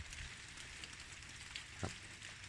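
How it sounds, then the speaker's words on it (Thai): Rain falls steadily in a longan orchard in the early evening, a faint, even hiss of drops that continues through the whole stretch with no voices. "ฝนตก"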